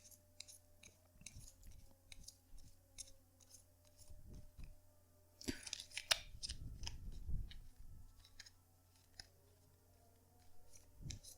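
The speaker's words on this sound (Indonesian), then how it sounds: "kartunya dikocok dulu sebelum kita mulai" A deck of tarot cards is shuffled by hand, giving soft crisp riffles and clicks scattered across the span, with a louder, denser burst of card handling in the middle, close and quiet with no talking.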